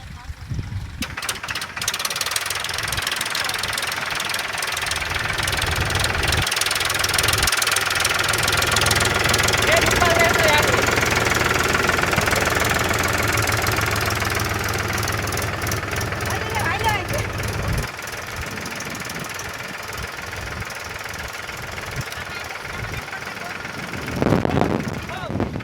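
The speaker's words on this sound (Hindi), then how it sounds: "अभी ट्रैक्टर चल रहा है हमारा" A tractor engine runs steadily in a peanut field during sowing, a loud continuous knocking diesel drone that eases off near the end, with people talking over it.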